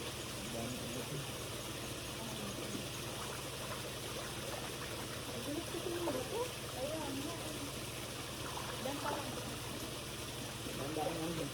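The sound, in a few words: water flowing at a waterfall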